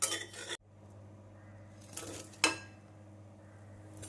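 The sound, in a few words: stirring colocasia pieces with masala in a pan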